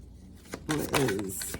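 Spirit animal oracle cards being shuffled by hand, a short riffling flutter of card stock close by, mixed with a voice speaking.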